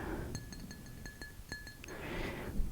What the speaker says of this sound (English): Right here is a glass of water.